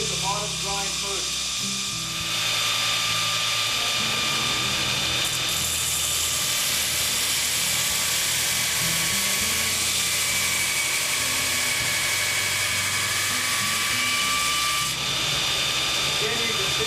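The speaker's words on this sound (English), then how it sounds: "I like to, for some reason, do the bottom grind first." A belt grinder runs steadily through a long pass, grinding the bottom bevel of a knife blade, a continuous close whirring hiss with a faint shift in tone partway through.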